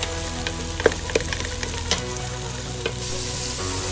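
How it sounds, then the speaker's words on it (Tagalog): Vegetables frying in a pan with oyster sauce, a steady close sizzle broken by a few scattered clinks and scrapes of a utensil stirring. "So yan, oyster sauce lang po ang hinahalo ko."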